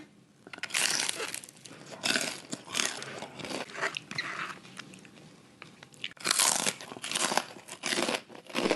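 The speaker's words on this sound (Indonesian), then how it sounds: "Renyah banget cirengnya." Crunchy fried cireng tahu, a tapioca and tofu snack, is bitten and chewed up close, giving loud, dense crackling crunches in irregular bursts with short pauses between bites.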